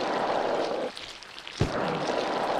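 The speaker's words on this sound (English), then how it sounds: "It's raining here." Rain falling in the video game Silent Hill 4: The Room, a steady hiss of rainfall with a brief dip and a dull low thump partway through, no speech.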